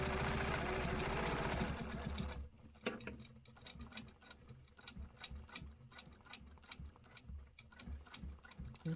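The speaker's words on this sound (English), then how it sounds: "Just continue on stitching these lines." A sewing machine stitching stencil lines runs in a fast, steady mechanical clatter of needle strokes. It starts with a dense, louder whir, then settles into rapid ticking bursts with brief pauses.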